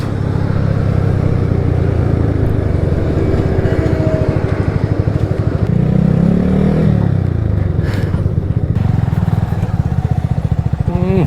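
Several motorcycles run close by at a roadside stop near a restaurant in Comilla, their engines droning and revving steadily and loudly throughout, with voices talking over the engine noise.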